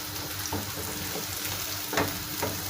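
Cabbage with chili flakes frying in a pan for a Black Sea döşeme mancarı dish, a steady sizzle with a few stirring scrapes, close and alone.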